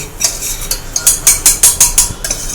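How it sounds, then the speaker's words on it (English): Butter and flour being stirred together into a roux in a pan, a close series of about eight quick rhythmic scraping strokes of a utensil, with no talk. "butter and flour are mixed together"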